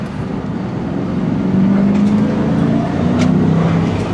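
A Ford Mustang Cobra with a new clutch, once flood-damaged, drones steadily while driving, its exhaust swelling slightly as it pulls, close and loud with no talking.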